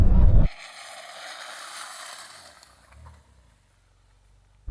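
A Porsche 911 Dakar brakes hard from 30 mph to a stop in mud. A sharp, loud burst gives way to a rushing, rolling tire-and-wind noise that fades over a few seconds into near silence.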